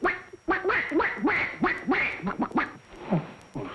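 A voice imitates a duck, giving a rapid series of about ten nasal, rasping quacks in an uneven rhythm, close and clear.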